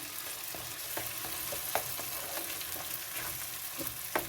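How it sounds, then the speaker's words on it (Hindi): Mutton brain (magaz) fries in a pan with a soft, continuous sizzle and scattered faint scraping taps from a spatula. "इसको 3 से 4 मिनट अच्छी तरह हम मगज़ को फ्राई करेंगे"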